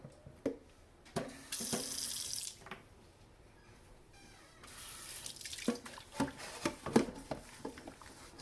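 Tap water runs in bursts into a sink while a stainless steel pan is rinsed, with gushing stretches broken by clanks and knocks of the pan, fairly close.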